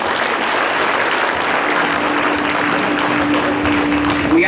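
Audience applause at the World Photographic Cup 2017 award ceremony, a dense, steady clapping from a large crowd sustained loudly for several seconds with no talk over it.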